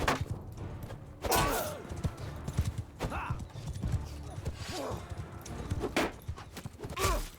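Horses galloping through snow in the Mount & Blade II Bannerlord battle game, a steady clip-clop of hooves with occasional thuds and a brief whinny, under a speaking voice.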